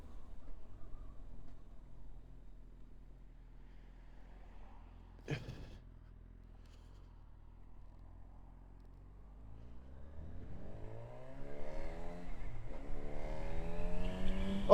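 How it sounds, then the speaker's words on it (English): Low engine rumble of a Honda CB1000 Hornet motorcycle being ridden on country roads builds into a rising, revving roar with harmonic whine from the headers, growing louder toward the end; one sharp click midway. "I love the noise of that at the front of it. You can hear it from the headers."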